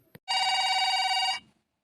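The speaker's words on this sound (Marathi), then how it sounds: "आता मंग्याला फोन लावतो मी" A cartoon telephone rings during an outgoing call, one steady buzzing electronic ring lasting about a second after a brief click, then silence.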